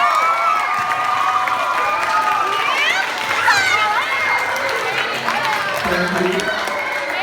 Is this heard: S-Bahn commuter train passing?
no